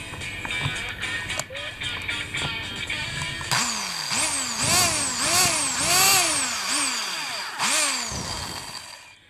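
A power drill drives into a wood project in repeated rising and falling bursts, loud and close, each revving up and dropping off in quick succession after some lighter handling noises.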